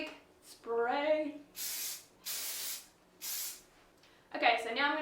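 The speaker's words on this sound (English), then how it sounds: "you're just going to give it one big spray" Hairspray misted onto freshly teased cheer-style hair in three separate hissing bursts, each roughly half a second to a second long, between stretches of a nearby voice talking.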